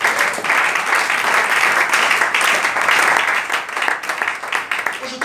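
Church congregation applauding at a pastor's revival service, steady dense clapping from many hands filling the room, loud and continuous with a slight dip near the end, no clear talk on top.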